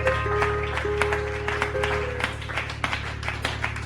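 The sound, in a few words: applause from church congregation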